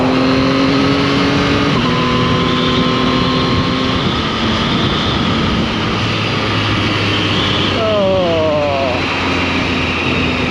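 Yamaha XSR 900 GP motorcycle heard while riding: a loud, steady engine drone and wind rush fill the whole stretch, with rising pitch sweeps as it revs and shifts through gears near the end.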